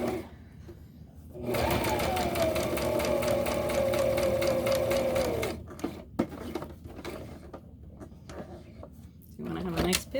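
A sewing machine stitches a backpack in a steady, close, fast mechanical whir that runs for about four seconds, then stops for a pause with scattered handling clicks before briefly starting again; a person talks.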